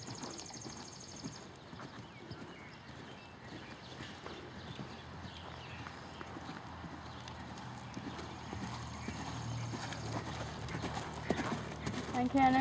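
A horse canters toward a cross-rail jump in a riding lesson, its hoofbeats a soft steady rhythm heard at a distance beneath a person speaking, with a brief whinny.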